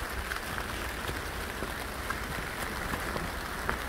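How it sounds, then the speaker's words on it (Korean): Autumn rain falls steadily in a garden planted with peonies, making a continuous soft hiss with scattered faint drips and patters, even and moderately quiet throughout with no voices. "비 그칠 때만 기다릴 수는 없고"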